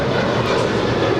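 A WestJet Boeing 737-800 departs Los Angeles airport, a loud steady jet engine roar holding level throughout the short moment with no voices.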